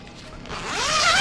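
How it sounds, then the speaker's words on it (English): A zipper being pulled on a potty tent, a single rising zip that grows louder and higher toward the end, close and alone. "the zippers seem strong"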